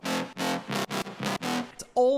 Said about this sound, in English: It's almost like a really dirty version of like trumpet bassy kind of sound that we had before,